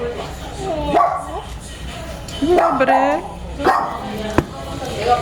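Several dogs bark and yelp in short bursts, fairly close, while someone talks over them.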